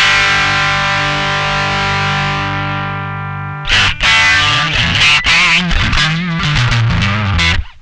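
Heavily overdriven electric guitar through a MOSKY Classic AC-30 pedal with the mids scooped, first a long sustained chord ringing and fading, then a burst of loud, distorted strummed chords and riffing, with no talking.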